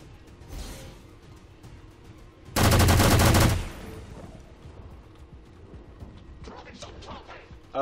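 A rapid burst of demolition weapon fire from XCOM 2 erupts loud and dense for about a second, standing out sharply against quieter game ambience and faint speech.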